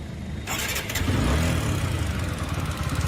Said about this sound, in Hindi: मैं इसको स्टार्ट करता हूँ।